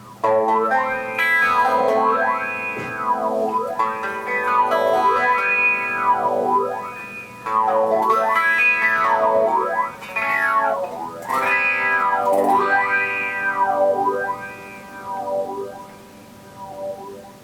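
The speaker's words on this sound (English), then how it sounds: "So when I play, you get a phaser effect." Electric guitar chords sweep through a strong phaser effect, a whooshing tone rising and falling in repeated waves, loud and continuous with short breaks.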